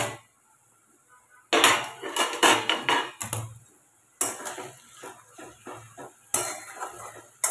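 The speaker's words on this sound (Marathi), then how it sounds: "भाजी उघडून पाहूया आपण." A lid is lifted off a pot of home-cooked vegetable curry, bringing clattering metal knocks and scraping in several bursts, with quiet gaps between them and no talk.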